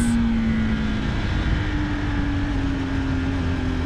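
KTM RC 390 motorcycle engine droning steadily while riding, a loud continuous buzzing hum with a sustained tone that drifts slightly in pitch, wind rushing underneath throughout.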